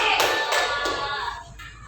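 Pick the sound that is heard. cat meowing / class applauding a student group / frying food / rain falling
class applauding a student group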